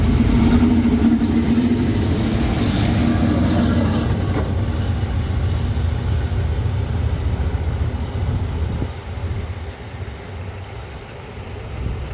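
GEA 4543 diesel locomotive passing with its train, a loud, continuous rumble and rolling rail noise that gradually eases, with no talk over it.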